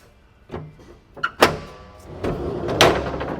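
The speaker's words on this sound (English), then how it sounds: "Full extension drawer." A full-extension drawer in the cargo area of a 2016 Jeep Wrangler Rubicon slides out on runners with a rolling rumble, followed by a couple of sharp clunks and knocks close by.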